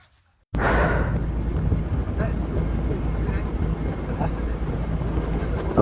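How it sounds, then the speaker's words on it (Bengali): A speedboat running across the sea on the way back toward Cox's Bazar from Sonadia Island, its engine roar and hull slapping on water loud and steady after a brief quiet start, with wind buffeting the microphone throughout. "স্পিড বোটে আসছি এখন"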